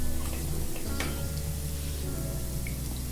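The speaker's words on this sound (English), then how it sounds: "Fry them until they turn golden brown and crispy from outside" Cheese balls deep frying in hot oil give off a steady, dense sizzle and crackle throughout, with faint ticks and pops over the continuous frying noise.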